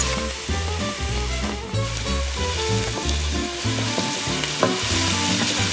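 Onion, celery and garlic sautéing over very high heat in a pan, a dense continuous sizzle with stirring throughout, though steady tonal music runs loudly underneath.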